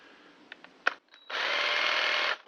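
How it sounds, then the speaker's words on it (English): A jigsaw saws through a stuck bottom bracket shell on a bicycle, a steady buzzing cut lasting about a second after a few short knocks and taps, close and fairly loud with no talk. "So we've got our jigsaw"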